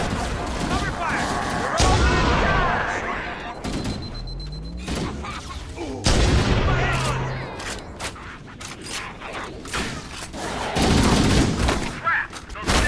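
Stationary guns in Halo: Combat Evolved pound away in a loud, chaotic firefight, with repeated heavy bursts, booming impacts and rattling gunfire layered over shouting voices and battle noise throughout.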